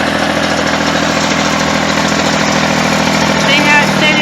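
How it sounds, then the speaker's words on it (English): A tractor fitted with arms or a bucket idles steadily and loudly through the whole stretch while a T-post is pushed into the ground, its engine rumble continuous and close with no talk over it. "You got a tractor with arms or a bucket."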